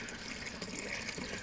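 Pond water mixed with fresh water pours steadily into a container, a soft, continuous splashing trickle heard close and alone for a moment.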